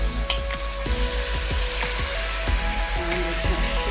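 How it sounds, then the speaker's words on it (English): Freshly cut tomatoes sauté in a hot pan for Kumbakonam kadappa, a constant close sizzle broken by several quick stirring scrapes spread through the short stretch, with no talking. "Now we add in the cut tomatoes,"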